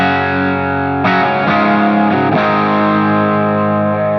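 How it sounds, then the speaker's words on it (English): An electric guitar runs through a Source Audio Ventris room reverb with the treble kept low, playing a few sustained, slightly distorted chords that ring out and blend into a smooth lingering tail. "And that's how I would use a room reverb."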